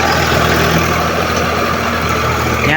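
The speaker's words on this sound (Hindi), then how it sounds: "ये देखो ट्रैक्टर" Tractor engine working a small field during plowing, a steady loud diesel drone that holds continuously throughout with a low rumbling hum and no voices.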